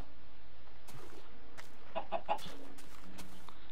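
A chicken in the Minecraft video game gives a few short clucks around the middle, quiet and close, over a faint steady game background with some small soft clicks.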